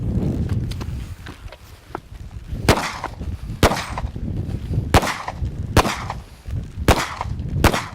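Handgun shots fired during sheriff's team shooting training outdoors, sharp loud reports in a loose sequence of about six to seven, spaced roughly a second apart, with faint background rustle between shots.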